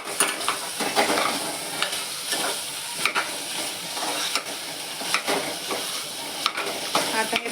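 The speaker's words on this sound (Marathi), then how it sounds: "आता हे परत आपण 1 मिनिटासाठी असं भाजून घेऊया." Spicy misal masala and chutney roasting in oil in a home kitchen pan, a continuous close sizzle broken by regular scraping stirs of a spatula against the pan.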